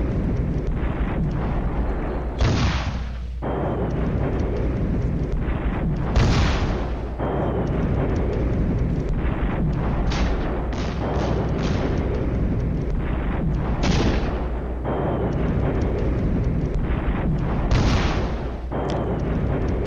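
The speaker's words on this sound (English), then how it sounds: "Final barrage of this turn for heavy guns" Heavy guns fire a sustained artillery barrage in a war video game, repeated deep booms and blasts landing irregularly every couple of seconds over a constant rumbling background.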